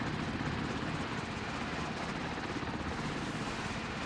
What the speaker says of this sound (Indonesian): Helikopter keluar.